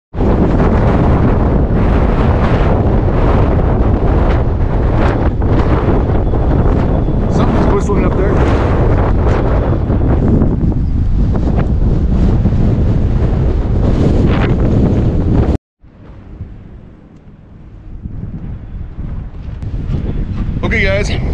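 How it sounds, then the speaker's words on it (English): Strong, cold wind on the Badger Mountain hiking trail roars and buffets loudly against the microphone for about fifteen seconds, then cuts out abruptly before gusts slowly build back up. "It's been very cold and very windy"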